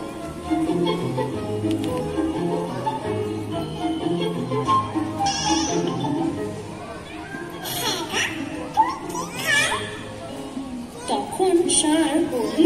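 A voice imitates a goat's bleat during a children's stick puppet show, a wavering repeated bleating sound over children's chatter and excited voices, with a storyteller talking throughout.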